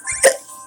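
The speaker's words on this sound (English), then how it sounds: "I got the hiccups." A single short hiccup, close and fairly loud, a sharp brief catch of breath.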